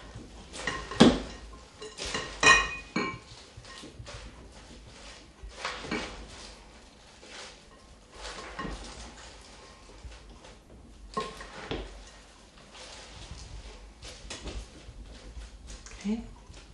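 Salad with dill weed being tossed in a bowl makes scattered wooden and dish-like clatters and knocks that come and go under ongoing talk.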